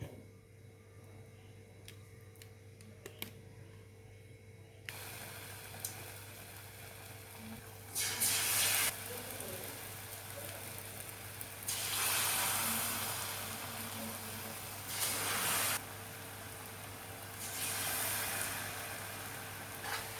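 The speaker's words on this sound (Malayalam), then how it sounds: "നമുക്ക് ഈ ഉണ്ടകളെല്ലാം ഇതിൽ മുക്കി വെളിച്ചെണ്ണയ്ക്കകത്തോട്ടിടണം." Tapioca bonda balls dropped into hot coconut oil set off a loud, steady sizzle after a quiet start, swelling in surges as more go in, with no talk.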